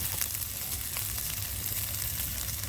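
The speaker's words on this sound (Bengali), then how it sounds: "এই যে ধনি পাতা সব কিছু ভেজে নিচ্ছি" Coriander leaves and spices frying in a pan on a village clay stove, a dense continuous sizzle with soft crackles and stirring, close and steady with no talking.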